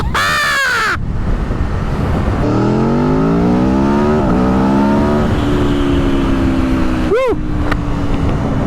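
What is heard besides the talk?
2022 Aprilia Tuono V4 motorcycle engine accelerating during wheelie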